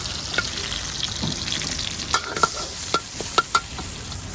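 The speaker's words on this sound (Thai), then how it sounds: "ผัดลงไปเลย" Shrimp fried rice is stir-fried in a hot pan, with a steady loud sizzle and a run of quick metal spatula scrapes and clinks in the second half.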